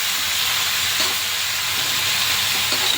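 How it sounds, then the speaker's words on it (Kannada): Tomatoes for chutney fry in hot oil, making a dense, steady hiss and sizzle heard up close and loud, with faint stirring scrapes underneath and no speech. "ಚೆನ್ನಾಗಿ ಫ್ರೈ ಆಗಲಿ ಟೊಮೆಟೊ"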